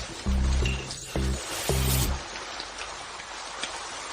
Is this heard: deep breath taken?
no